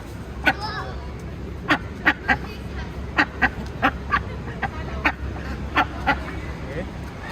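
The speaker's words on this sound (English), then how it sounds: "These are the mother ducks." Mother ducks in a county fair poultry barn give a run of sharp, loud quacks at irregular intervals, close by, over a constant hum of crowd babble and barn noise.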